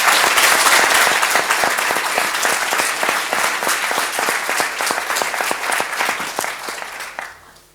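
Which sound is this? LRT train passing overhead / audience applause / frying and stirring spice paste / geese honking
audience applause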